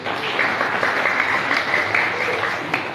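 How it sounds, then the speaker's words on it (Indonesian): An audience at a printing company gathering in Bandung claps together, a dense, even wash of applause that stays loud and close from start to finish. "Tepuk tangan dulu."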